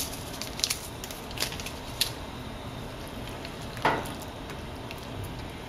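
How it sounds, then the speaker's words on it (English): Vegetable stew with tomatoes just coming to a boil in a pot, a soft continuous bubbling and sizzling hiss, fairly faint, with a few small pops and ticks. "this is now just starting to come to a boil"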